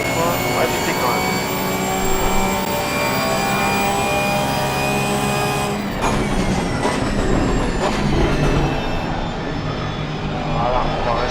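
A race car engine in the Assetto Corsa Competizione racing game drones loud and steady, its high whine holding, then shifting as the car speeds up alongside a rival, with a brief dip in pitch partway through.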